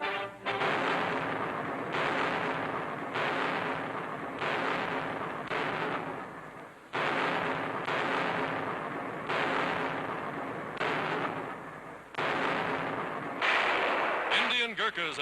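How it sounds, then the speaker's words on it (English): Archival newsreel of British artillery firing on the front, with a run of heavy booming gun reports every second or so, each fading out, under constant narration. "General Giraud visit the fighting front as British artillery gives the Nazis no rest."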